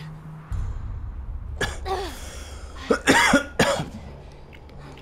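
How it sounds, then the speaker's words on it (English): A series of coughs in two bursts, with a harsh pair near the middle and another hack shortly after, fairly close and loud over steady low background noise during a session of The Last of Us Remastered. "sorry for coughing"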